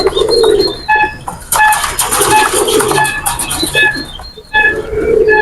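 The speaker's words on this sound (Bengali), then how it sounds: "দুইটাই রানিং নর কবুতর" Adult male pigeons coo close by in rhythmic, repeated throaty calls, with brief bursts of fluttering and shuffling between the coos.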